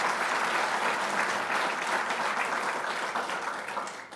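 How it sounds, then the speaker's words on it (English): Applause from the audience at a university athletics hall of fame ceremony honoring the inducted class, steady dense clapping filling the room for about four seconds before tapering slightly at the end. "How about one more round of applause for this 37th annual class?"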